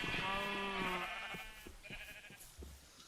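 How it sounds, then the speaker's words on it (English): A Minecraft sheep bleats in a wavering, nasal call up front, followed by soft clicks and game noises at low level, with no talk. "there's the sheep for his nether tunnel"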